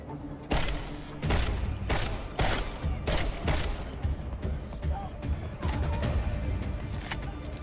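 A weapon is test-fired in Deus Ex: Mankind Divided, with a string of loud, close shots in quick succession, a pause, then a few more, and brief speech in between.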